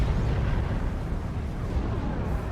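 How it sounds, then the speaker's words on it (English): Heavy plasma cannon fire in Dawn of War 2, Space Marines against Chaos Space Marines, merges into a dense, continuous rumble of explosive blasts, loud and steady throughout with no separate, distinct shots standing out. "Plasma Cannon shots"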